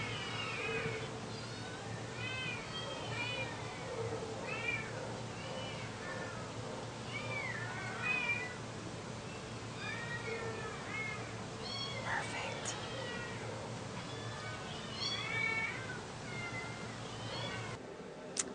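Cats and kittens meow repeatedly, with overlapping calls near and far, at an animal shelter, steady over a constant background hum and faint low talk.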